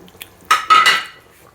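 Spices for Arabian chicken mandi tip into a metal pan, two quick close clanks of metal and a brief scrape that fade within about a second.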